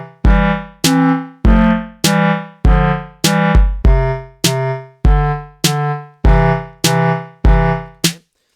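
Loud, evenly spaced musical beats, about fourteen notes at a slow, steady pulse, each ringing briefly before the next.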